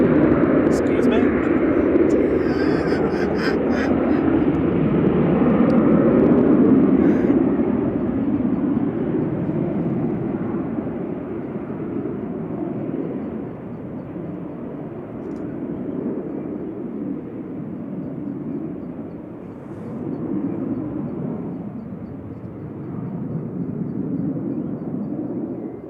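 A Ryanair jet airliner departing Manchester Airport makes a broad, steady low roar that swells and then slowly eases over nearly half a minute, with voices talking nearby.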